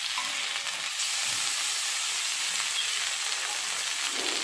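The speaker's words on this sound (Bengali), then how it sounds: "পেঁয়াজটা মোটামুটি ভাজা ভাজা হয়ে গেছে। এবার নিয়ে লাউ শাক বাটাটা নিয়ে নিচ্ছি।" Onions and bottle gourd leaf paste fry in a pan with a steady, bright sizzle that crackles continuously and fairly loudly throughout, no voices over it.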